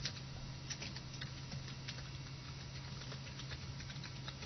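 Quick, light clicking of a computer keyboard during a C++ programming lesson, a fast irregular patter of keystrokes running continuously and fairly faint over a steady low hum.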